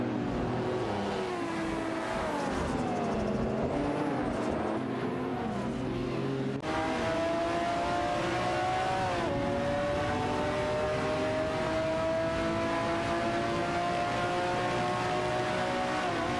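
Race cars in a racing video game whine and rev continuously at close range, with engine pitches sweeping up and down as cars overtake one another, and no talking.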